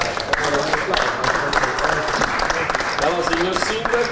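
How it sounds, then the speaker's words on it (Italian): Audience applause at the unveiling of the Palermo Arabo-Normanna route logo in Palermo, a dense, steady wash of clapping that continues throughout with voices mixed in. "Perfetto, ci sta l'applauso"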